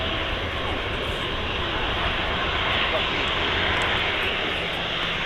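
A Boeing 757 airliner with Rolls-Royce RB211 jet engines roars steadily and loudly at Manchester Airport, a dense unbroken engine rumble filling the whole stretch.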